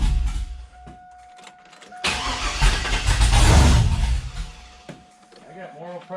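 A 5.3 V8 fitted with a 224r cam idles steadily for a few seconds, a low lumpy rumble that swells briefly in the middle while someone talks over it.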